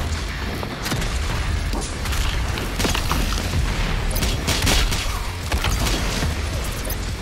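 Rapid gunfire and heavy booming blasts in DOOM Eternal combat, dense overlapping shots, explosions and mechanical clanks pounding continuously at close range.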